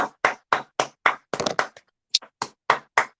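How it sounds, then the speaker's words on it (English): A small group claps in a studio morning show, about a dozen sharp close claps in an uneven rhythm with a brief pause midway, no talking. "Okay, come on, clap."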